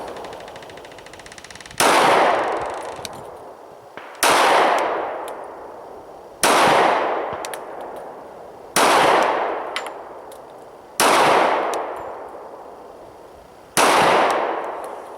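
Six sharp gunshots from a Springfield XDM 45 compact pistol firing 230 grain ball ammo at a target three yards away, evenly spaced about two seconds apart, each loud crack trailing off in a ringing decay.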